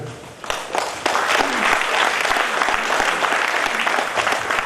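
Seminar audience applauding to welcome Dr. Usha Mehetta to the stage, starting with scattered claps then swelling into loud, sustained, dense clapping that continues to the end.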